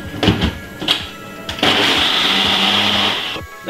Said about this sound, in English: Blend this about 3 to 4 minutes.